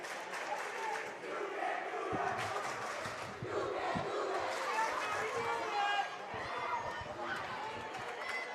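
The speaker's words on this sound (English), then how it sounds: "Muhls crowd slowly getting back into it" A crowd at a Muhlenberg vs Reading boys varsity high school basketball game roars and chatters continuously in an echoing gym, with sneaker squeaks and thumps and voices talking throughout.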